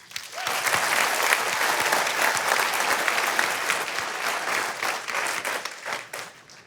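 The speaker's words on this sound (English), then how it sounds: "let's take a minute for a round of applause for you, your colleagues, and all of the companies in the room" Sustained applause from an audience at a business awards event honoring fast-growing companies, dense steady clapping filling the room for several seconds before tapering off at the end.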